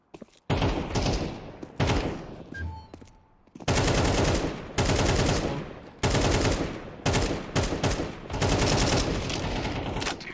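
Rapid automatic gunfire in Counter-Strike 2 on the Overpass map in a Wingman match, loud close bursts of shots broken by short pauses and a faint reload clatter.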